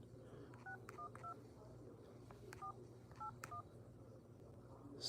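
Phone keypad tones beep in short paired bursts as a number is dialed on a T-Mobile line, soft and spaced against a steady low hum.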